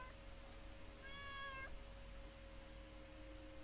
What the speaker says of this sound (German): Oh, die Katze.